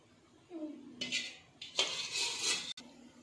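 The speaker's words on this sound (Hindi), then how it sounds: "अब हम रबड़ी डालेंगे।" A spoon scraping and clinking against a bowl as gond katira dry fruit rabri is served, a few short metallic scrapes and clinks, close and soft in a quiet kitchen.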